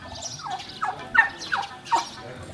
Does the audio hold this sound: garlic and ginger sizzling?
no